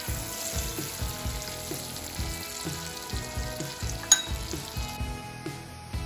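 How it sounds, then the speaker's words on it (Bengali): Finely chopped onions frying in melted butter, a steady low sizzle under repeated scraping strokes of a spoon, with one sharp clack midway. "এবার আমি মিহি করে কাটা এই 2 পেঁয়াজ কুচি দিয়ে দিলাম। গোল্ডেন ব্রাউন করে ভেজে নেব।"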